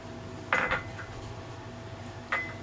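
A spoon clinks against a metal pot as malai is stirred into Hyderabadi dum tea, giving two sharp metallic clinks a couple of seconds apart over a quiet kitchen background.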